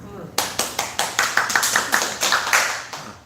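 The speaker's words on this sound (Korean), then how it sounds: "박수." A church congregation claps in a steady, evenly spaced rhythm, about a dozen crisp, loud group claps in a row that begin abruptly after a short pause.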